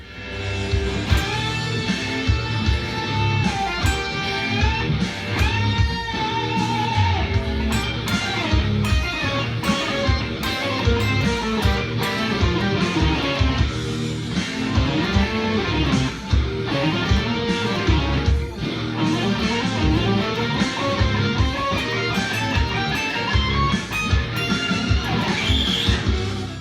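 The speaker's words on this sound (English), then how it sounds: "for this solo I had a octave down effect engaged" A busy electric guitar solo with an octave-down effect giving a thick, low-doubled tone plays continuously over a backing track, fast runs and bends filling the passage.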